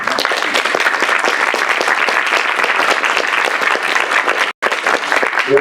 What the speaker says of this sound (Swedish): Carl Schlüter, ja, en applåd